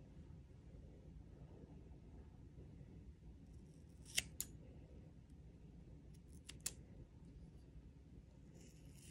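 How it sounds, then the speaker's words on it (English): Scissors snipping hair at home, a few faint crisp clicks in two small clusters over a low steady background hum, with no talking. "I'm cutting my hair myself."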